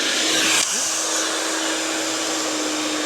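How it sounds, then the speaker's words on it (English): A hair dryer runs steadily at close range, blowing hot air over plastic window insulation film to smooth it out, a constant whooshing hiss that stays alone for the whole stretch, with a brief handling bump near the start. "let's use the blow dryer to see how well it gets smoothed out"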